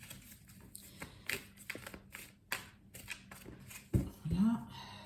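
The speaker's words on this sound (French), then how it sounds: "je démarre avec le Albano White Tarot pour le tirage" Albano White Tarot cards are shuffled by hand in quick riffling bursts and soft slaps, close and fairly quiet, with a voice talking faintly underneath.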